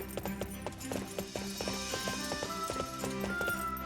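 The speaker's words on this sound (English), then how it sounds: "Let's go have our horses." Horses gallop in Fire Emblem Warriors: Three Hopes, their steady clip-clop hoofbeats repeating in a quick rhythm over game music, with an occasional faint whinny.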